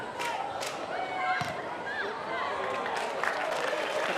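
Spectators clap at a women's A-League football match at Spencer Park, Brisbane Roar against Adelaide United, steady applause and crowd noise spread across the stand beneath a commentator's voice.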